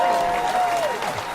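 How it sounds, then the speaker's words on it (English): A studio audience gives a brief patter of light applause, a thin, short burst of clapping with a tone sliding underneath and a talk-show host's voice nearby. "A little applause."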